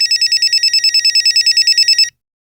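A telephone rings in a police station scene, a loud, close electronic trill pulsing rapidly for about two seconds before stopping abruptly into silence.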